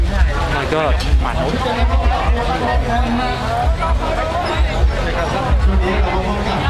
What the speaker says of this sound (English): Trying to get through this crowd.